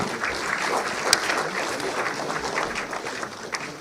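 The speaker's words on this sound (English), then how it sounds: "A huge round of applause for them." Audience claps steadily at an IP awards ceremony in New Delhi, a dense, moderately loud round of applause from a seated crowd that runs throughout.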